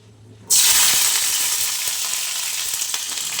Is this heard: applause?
no